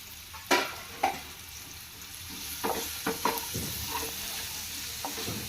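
Onions and green chillies being fried and stirred in hot oil for a stuffed brinjal masala curry, with soft sizzling under several sharp stirring scrapes, close and alone.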